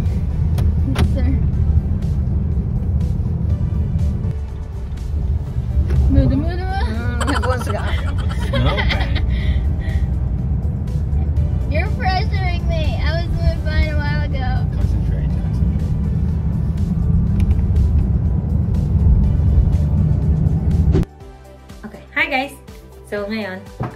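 Steady low road rumble inside a moving car on a winter drive in Moncton, Canada, running continuously under chatter and laughter from passengers, with the drone cutting off near the end.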